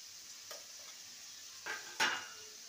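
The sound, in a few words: potatoes frying in a pan with turmeric and salt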